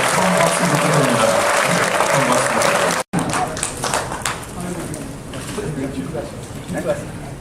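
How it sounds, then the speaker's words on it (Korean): Audience applause fills the hall at a ceremony marking the 65th anniversary of the founding of the Korean government, loud and dense, then cuts off briefly and carries on under a speaker's voice. "박수 부탁드립니다"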